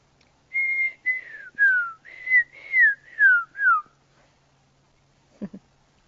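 A crowned lapwing gives a series of seven clear, whistle-like descending notes in an otherwise quiet setting, followed by a brief faint knock.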